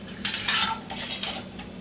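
A slotted spoon scrapes and clinks against a pot while scooping caramelized onions out of their juice, giving several short metallic scrapes and taps in an irregular rhythm, close and fairly loud with no talking.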